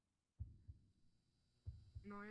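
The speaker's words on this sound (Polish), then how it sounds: "Ej, bicie serca słychać" Heartbeat in the VRChat backrooms game, two paired low thumps a little over a second apart, faint and muffled over a low hum, with a brief tonal sound at the end.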